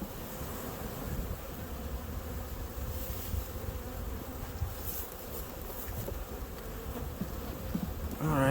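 Honey bees buzz steadily in an open hive during a late-February inspection, a dense low drone that carries evenly throughout with no talking.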